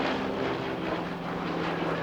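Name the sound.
Douglas C-47 Skytrain low pass with Pratt & Whitney radial engines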